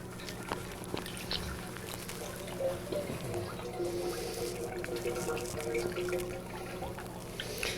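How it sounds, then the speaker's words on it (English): Two and a half gallons of unflavored ice cream mix pour into a batch freezer for Oreo cookies and cream ice cream, a faint, continuous liquid trickle over a low steady hum, with a voice briefly nearby. "I'm going to pour it in my machine."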